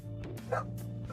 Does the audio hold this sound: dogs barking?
yes